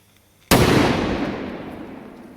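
One loud, sharp blast from a large red firecracker exploding on a lock, striking suddenly from near-silence and followed by a long rumbling decay.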